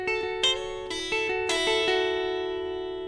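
An electric guitar plays an A6 lick on open strings: a handful of clean plucked notes that ring together and sustain, close and moderately quiet, with no talking.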